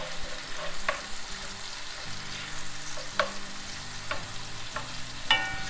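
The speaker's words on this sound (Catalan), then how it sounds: "ja tenim doncs l'oli calent, anem a tirar la ceba. La deixarem un parell de minuts o així que es vagi sofregint" Onion sizzling steadily in hot oil in a pan, a close crackling hiss with occasional sharper pops and stirring clicks, over faint background music.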